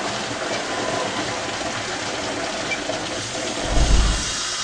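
Water rushing through the main drain of a Viking dry pipe sprinkler system as the supply valve is cracked open, a steady broadband hiss with a brief louder surge near the end.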